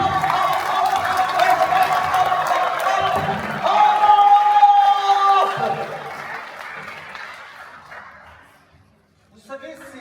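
An audience applauds in a steady ovation at an international art prize ceremony; voices and chatter mix in, and the clapping gradually fades toward silence.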